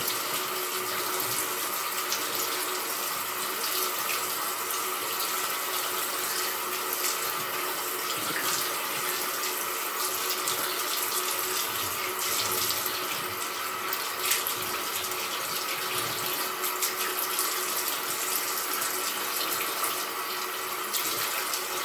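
Water runs steadily from a tap while hair is rinsed, a loud, close, continuous rushing splash with no talking.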